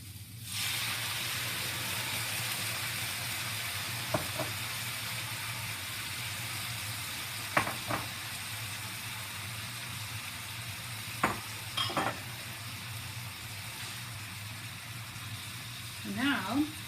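Meat and mushrooms sizzle steadily while being stir-fried in a skillet, a continuous hiss with several sharp scrapes and clinks of stirring scattered through.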